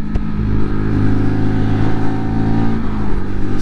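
A Lexmoto RSS Street 125cc motorcycle changes down through its gears. The close, loud engine drone shifts pitch in steps over steady wind and road noise.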